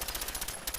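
A fast-firing submachine gun with a 10mm barrel in Fallout 4 lets off a rapid, continuous burst of evenly spaced shots, loud and close, alone without talk.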